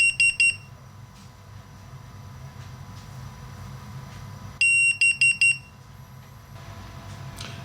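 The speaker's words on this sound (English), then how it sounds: "that's the beep you're going to hear when it's done" An iSDT FD-100 lithium battery discharger emits a completion signal of rapid high electronic beeps in two bursts, one at the start and another midway, over a low background hum.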